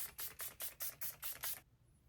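Seven quick pumps of Milani Make It Last setting spray hiss in an even rhythm close to the mic, followed by quiet.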